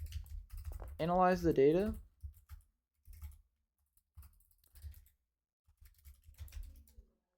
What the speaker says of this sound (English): I just cannot type today for whatever reason